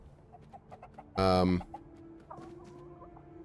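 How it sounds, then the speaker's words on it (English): Chickens in the video game Tainted Grail: The Fall of Avalon let out one loud burst of clucking that lasts about half a second. Quieter ambient game sounds come before and after it, and a single spoken word is heard. "I can't pet or talk to the chickens"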